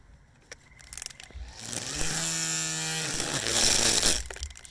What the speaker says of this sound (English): I'm going to blow dry mine and see if I can save it.